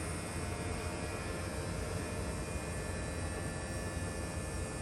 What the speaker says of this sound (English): Now the compressor just turned on.